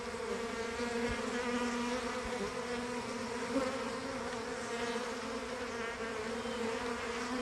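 A honey bee swarm streams into a hive entrance beside a queen excluder in August, a dense steady buzzing hum of many wings sustained close and unbroken throughout.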